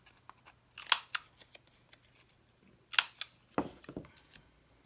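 Scissors snipping through scrapbook paper, rounding its sides: a few crisp, close cuts in two short bursts separated by quiet pauses, with faint handling rustles between.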